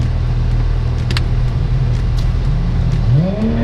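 A 580-horsepower car at the Istanbul Park circuit drones with a steady, loud engine rumble that climbs into a rising rev near the end, with no talking.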